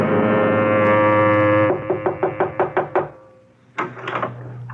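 Knocking on a door in a radio drama: a sustained tone gives way to a run of six or seven sharp, evenly spaced raps, loud and close, followed by a brief pause and another burst of sound.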